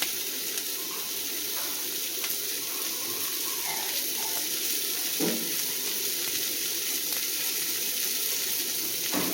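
Chopped tomatoes added to onions sautéing in a pan for radish chutney, an even, fairly soft sizzle with a faint watery hiss and occasional light stirring knocks.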